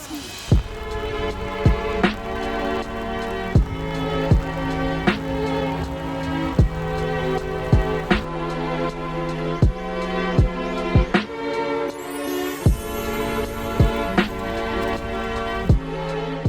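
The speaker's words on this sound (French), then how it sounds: "Grosse pluie aujourd'hui" Heavy rain pours down steadily in Tokyo with a dense hiss, broken by frequent sharp taps and knocks, with faint talk in the background.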